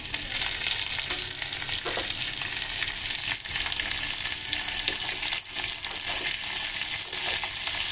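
Curry leaves frying in hot oil in a pan while being stirred with a long spoon, a loud constant crackling sizzle with scraping strokes and small pops throughout.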